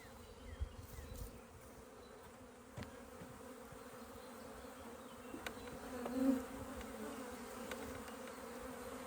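Honey bees buzz around an open nuc hive during an inspection, a faint, continuous hum of many insects with a few louder passes close to the microphone.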